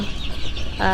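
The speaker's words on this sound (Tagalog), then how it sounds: "pasensya na po sa ingay ng aming mga tandang" Roosters and hens on a free-range chicken farm make a steady close clucking throughout, with a brighter harmonic call near the end that could be the start of a crow.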